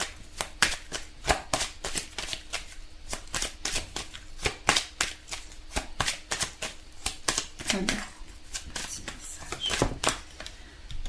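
Tarot cards being shuffled and drawn, a rapid run of crisp riffling slaps and flicks close to the listener, with a voice speaking briefly near the end.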